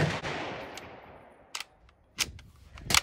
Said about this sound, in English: The round fired, but the bolt did not move to eject the spent brass or cycle the next round.